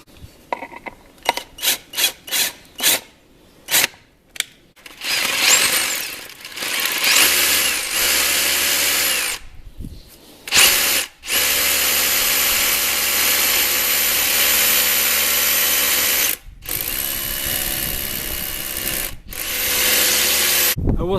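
A power drill drives a Thunderbolt screw during window installation, heard as a run of short bursts and then long sustained whirring passes with brief pauses between them, loud and close.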